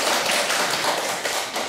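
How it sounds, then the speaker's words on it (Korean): An audience at a Korean Baptist theological university lecture claps after a pastor's greeting. The applause is a dense, steady patter of many hands that stays close and fairly loud throughout. "주일날은 박수 소리가 좀 더 크던데"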